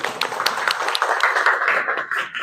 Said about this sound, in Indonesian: beri tepuk tangan untuk Firman